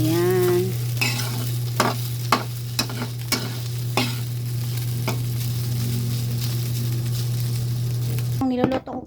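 Leftover fried rice and bitter gourd are reheated in a pan, with a spatula scraping and tapping in repeated strokes over a loud, continuous sizzle and a steady low hum that cuts off at the end.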